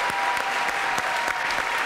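Studio audience applause on a French television show, steady and fairly close, a dense wash of claps with a few sharper individual hits standing out.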